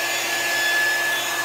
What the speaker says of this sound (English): Get the blow dryer and start blow drying.